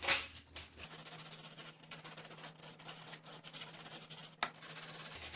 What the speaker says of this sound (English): I'm just going to come back and clean that up a little bit with some sandpaper, just so there's no sharp edges